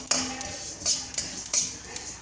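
Black sesame seeds crackle while frying in a pan, with steady close sizzling broken by sharp bright pops and scraping bursts at roughly half-second intervals, and no talking.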